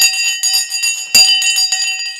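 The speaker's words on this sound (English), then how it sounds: "I can't believe I've missed the bell literally by 10 seconds." A stock market closing bell rings in a rapid, continuous electric clang, loud and close, with repeated strokes and a brief break before it carries on.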